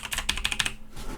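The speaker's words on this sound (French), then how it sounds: "mon clavier" Fast keystrokes clatter on a computer keyboard, a quick run of about eight close taps before a short pause and a couple more, alone without talk.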